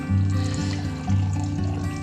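Water is poured into a glass aboard a boat in two short pouring bursts, close and moderately loud, with no talking.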